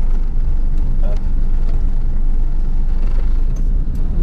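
A 1993 Daihatsu Atrai van with a 660cc engine and manual gearbox drives in third gear, giving a loud steady low cabin rumble with road noise throughout.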